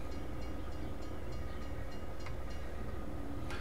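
Passing train in the video game Farming Simulator 19, a steady rolling rumble of rail wagons with faint rhythmic clicks, running alone throughout.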